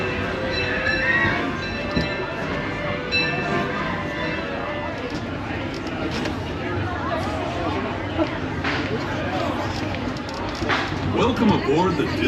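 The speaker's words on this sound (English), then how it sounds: "Welcome aboard the Disneyland Railroad." The Disneyland Railroad train rumbles along steadily with rattling cars and clanks while a voice speaks over a loudspeaker above the running noise.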